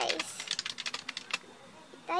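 Rapid keystrokes clatter on a Logitech K480 wireless keyboard, a quick run of close, crisp clicks that slows and trails off, followed by a brief voice at the very end.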